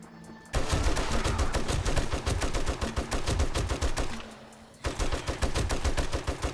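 Rapid automatic gunfire in the survival video game 7 Days To Die, dense loud bursts of shots with a short pause partway through, then firing resumes; no talking.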